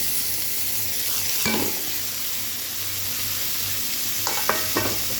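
Onion and chopped tomato fry in a pan with a steady, close hiss, broken by a few scraping stirs of a spatula near the start and again near the end.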